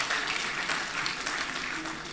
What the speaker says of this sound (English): Another round of applause for the Dean of Agro.